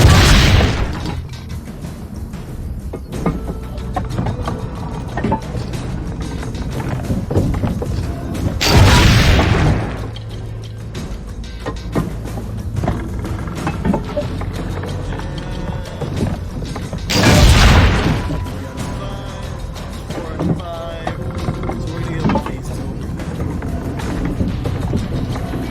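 Cannons fire in Assassin's Creed Brotherhood with two loud, booming blasts about eight seconds apart, each a broad thundering burst. Between them come mechanical clatter and creaks over a steady background rumble.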